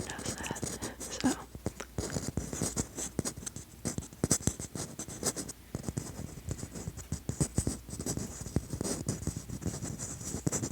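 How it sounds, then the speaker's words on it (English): Small scratchy taps and scrapes on textured Christmas ornaments come close up and quiet, in quick irregular bursts under soft, low voices. "I like the sounds when I do like little taps and scratchy taps"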